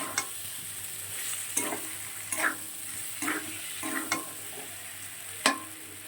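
Pointed gourd and potatoes stir-fried in a pan, with a steady low sizzle broken by several sharp scraping stirs of the spatula at irregular intervals, close and moderately loud, with no voices.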